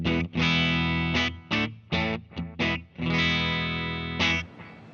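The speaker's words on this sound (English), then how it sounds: "Here's what it sounds bypassed, Strat through a 112 Supro." Electric guitar chords from a Stratocaster through a Supro 1x12 amp with pedals bypassed, a few sustained ringing chords broken by short choppy stabs, with a gritty edge.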